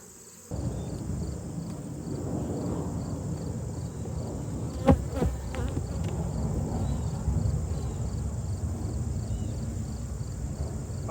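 Honey bees buzz around an open hive during an inspection outdoors, a steady close droning hum that starts suddenly and continues with a few faint knocks from handling the hive.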